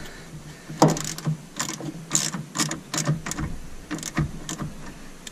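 A diesel fuel filter is turned by hand to tighten it, giving a series of sharp ratcheting clicks and small mechanical knocks in irregular bursts, close and fairly quiet, with no speech.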